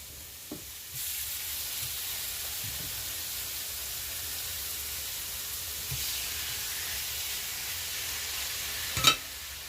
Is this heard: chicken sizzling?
yes